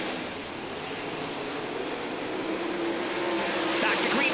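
Sprint car engines race around the dirt oval at Cedar Lake Speedway during a World of Outlaws event, a steady, distant roar of several cars that swells slightly toward the end.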